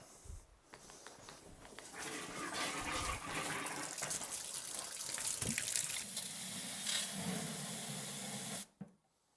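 Water gushes from a wall-mounted shower faucet into a shower space, a steady splashing rush heard close for about eight seconds before it is abruptly shut off.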